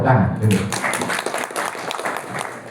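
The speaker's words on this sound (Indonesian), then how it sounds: "Tepuk tangan." An audience at a religious lecture on Hajj rites breaks into clapping, lively and close, with a voice speaking over the start.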